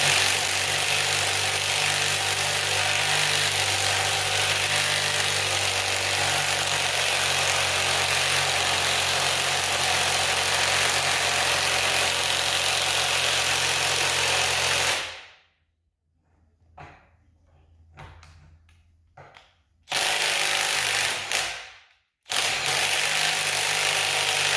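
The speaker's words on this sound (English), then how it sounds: "Milwaukee M12 3/8 drive, right angle impact ratchet." A Milwaukee M12 3/8-inch drive right angle impact ratchet works on a Ford F450/550 2wd front axle, giving a steady mechanical whir for about fifteen seconds, then stopping, with a couple of short bursts afterward.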